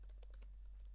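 Someone types on a computer keyboard, producing quick, soft clicks of individual keystrokes in an irregular rhythm. The keys are faint but close, over a low electrical hum.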